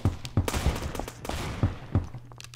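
Sniper rifle shots fired in the Roblox video game, several sharp, punchy bangs spaced irregularly over a busy game soundscape, fairly loud and close.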